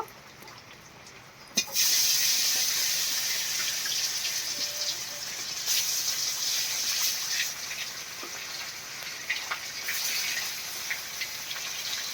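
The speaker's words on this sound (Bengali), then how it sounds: "এবার মাছগুলো ভেজে নেব।" Fish frying in hot oil in a kadai, a steady loud hissing sizzle that swells suddenly and holds, nearby and continuous with no talk.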